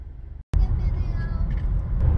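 Car interior while driving from the Bronx back into Queens: steady low engine and road rumble after a short dropout at the start, with faint noises above it.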